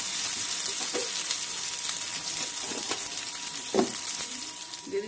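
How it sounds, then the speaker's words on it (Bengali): Egg khichuri masala with salt and chilli powder sautés in a pan, giving a steady close sizzle with occasional scraping stirs of a spoon. "দিয়ে এটাকে ভালো করে কষিয়ে নেবো।"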